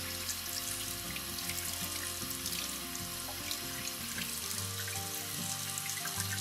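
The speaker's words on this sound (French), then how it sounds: "Je vais de nouveau rincer pour voir si l'eau est claire." Tap water runs steadily into a sink while a Real Techniques cleansing glove is rinsed under it, a continuous close splashing hiss with slight shifts as the glove moves through the stream.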